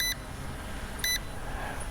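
Two short electronic beeps from an AE9 camera drone, about a second apart, ring out over steady outdoor wind and rumble.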